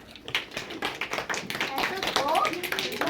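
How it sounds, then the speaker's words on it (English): Students in a math classroom give a quiet golf clap, a patter of soft, uneven taps close by, with voices talking over it. "We'll give her a little golf clap"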